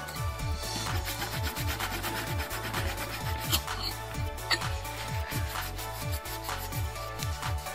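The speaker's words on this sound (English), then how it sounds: "Just get it, polishes it, and it kind of makes it really shiny." Steady hand rubbing polishes a copper etched pendant, a continuous close scratchy friction with a regular back-and-forth rhythm and faint low hum underneath, no talking.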